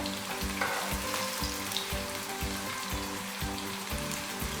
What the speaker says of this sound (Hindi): प्याज हमने गोल्डन ब्राउन करनी है